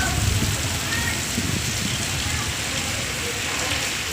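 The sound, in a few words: heavy rain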